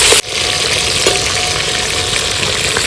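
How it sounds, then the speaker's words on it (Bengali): Rohu fish pieces frying in hot oil in a pan, a loud, steady, close sizzle that continues throughout with a brief dip near the start. "বেশ লাল লাল করে ভেজে নিচ্ছি মাছগুলো।"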